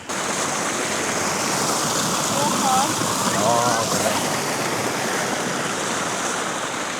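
A water fountain in a small-town centre splashes in a steady broadband rush, with brief voices in the background, close and fairly loud throughout.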